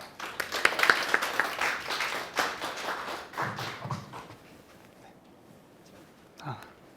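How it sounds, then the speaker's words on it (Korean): An audience at an academic lecture claps warmly as the lecturer is welcomed to the podium. The applause is dense at first, then thins and fades, with a few scattered claps and a thump near the end. "뜨거운 박수로 조덕천 박사님을 강단으로 모시겠습니다."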